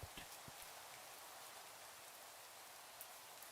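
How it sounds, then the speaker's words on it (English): Steady rain falls in a Minecraft world, a continuous soft hiss of drops with a few faint patters near the start, heard alone with no talking. "Oh, I can't see because it's raining."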